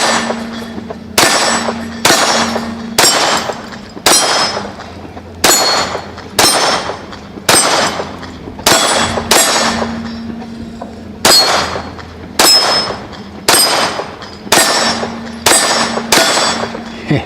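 SIG P320 X Carry Legion pistol shots ringing steel targets at a range: a long run of sharp, loud cracks, each followed by a bright metallic ring, fired in quick pairs and spaced strings.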